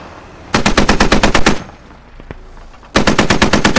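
Automatic gunfire in the military shooter Squad, two loud close bursts of roughly ten rapid rounds each separated by a short pause with a faint single shot in between.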